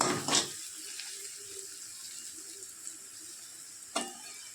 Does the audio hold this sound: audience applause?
no